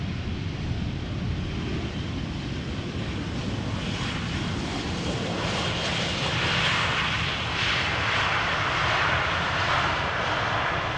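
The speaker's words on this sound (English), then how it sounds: "EasyJet A319 has arrived from London Luton" EasyJet Airbus A319 jet airliner arriving at Amsterdam Schiphol Airport, a steady, loud broadband engine roar with rushing wind-like hiss, swelling slightly in the second half as it passes, with no talk over it.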